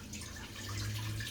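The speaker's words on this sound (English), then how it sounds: "you put the drainage pipe in, so the water can flow out freely" Water drains out of a washing tub through a drainage pipe, a steady close trickling and gurgling flow with scattered drips and no talking.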